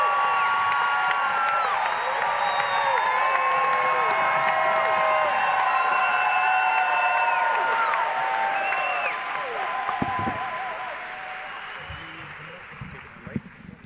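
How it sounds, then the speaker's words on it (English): A large political rally crowd cheers, whoops and claps at a livestreamed event, a dense sustained roar that fades toward the end as scattered voices and a few claps remain. "Clap it up for these guys."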